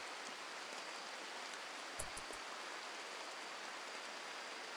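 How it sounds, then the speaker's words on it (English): Rain falls in the video game RimWorld as a steady, faint hiss, uniform throughout, broken only by a couple of soft thumps near the middle. "Although it's raining."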